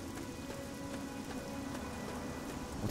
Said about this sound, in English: Turning up my headset a little louder to hear the rain.